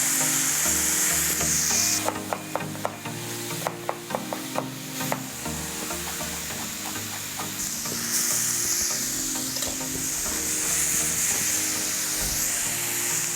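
Crab cakes fry in a pan with a constant loud sizzle, punctuated by a series of quick clicks and taps early on, without any speech.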